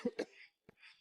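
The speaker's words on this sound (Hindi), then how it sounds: "कभी किसी बुजुर्ग के खांसने की।" An elderly person coughs in a short, close burst of two or three raspy hacks followed by a brief breathy rasp, heard as a horror sound effect with no speech.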